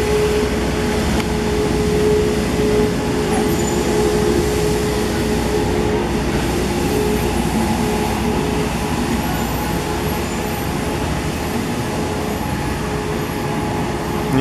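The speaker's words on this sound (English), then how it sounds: "The street cleaner is going by, as you can hear." A street sweeper grinds past at night, a constant rumbling engine drone with a steady mechanical hum, loud and unbroken throughout.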